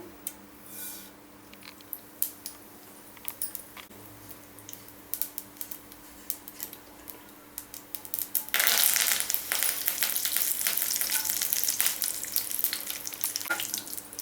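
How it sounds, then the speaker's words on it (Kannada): Spices for a tempering frying in hot oil for a fresh ginger gojju, a soft crackle with scattered pops that suddenly turns into a louder, denser sizzle partway through, with no talking. "ಎಣ್ಣೆ ಬಿಸಿಯಾಗಿದೆ, ಒಗ್ಗರಣೆ ಹಾಕ್ಕೊಳ್ಳೋಣ"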